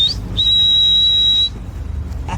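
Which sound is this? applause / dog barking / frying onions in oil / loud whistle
loud whistle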